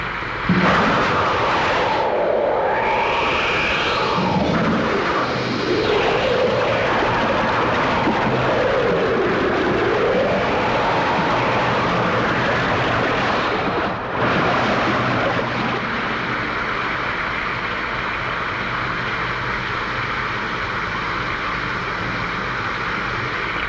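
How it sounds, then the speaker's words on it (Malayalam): Thunder and heavy rain play as a film sound effect in a Malayalam movie: a loud, steady roaring downpour with deep rumbling swells, continuous throughout and without talk. "എന്തൊരു ഇടിയും മഴയും."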